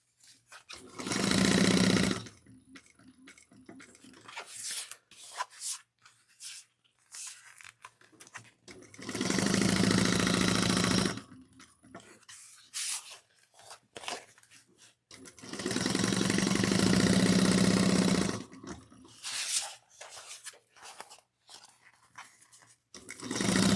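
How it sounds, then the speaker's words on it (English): Sewing machine stitching around a slip pocket on a handheld bag, running in three long loud bursts plus several shorter ones, with quiet pauses between. "sew the pocket all the way around together."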